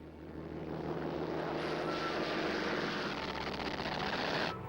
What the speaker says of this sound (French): Des avions japonais attaquent les 2 navires le 10 décembre.